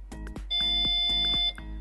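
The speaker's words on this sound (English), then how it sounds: "press and hold the button until it beeps" A short electronic beep from a Tesla Model S trunk button is followed by a longer sustained tone, with several sharp clicks spaced through it; no voices.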